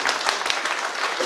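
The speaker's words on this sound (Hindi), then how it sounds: "एक बार ताली बजा दीजिए।" Audience clapping at a school safety training session in Raipur, a short burst of steady hand claps filling the room, fairly close and even, with no talk over it.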